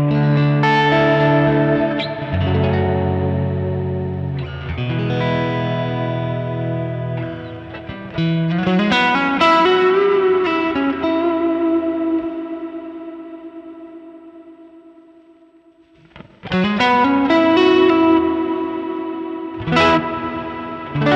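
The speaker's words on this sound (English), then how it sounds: "Let's turn everything up fully so we can just hear the actual reverb itself." An electric guitar plays through the reverb of a Sonicake Matribox multi-effects unit, with decay and high end turned all the way up and pre-delay down. Sustained chords swell into long, washy tails that fade almost to silence before fresh strums ring out.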